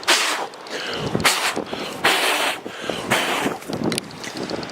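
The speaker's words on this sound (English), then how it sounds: "It's too windy to be doing that." Strong gusting wind in a snowy outdoor setting buffets the microphone in loud, roaring bursts that swell and drop every second or so, with no voices.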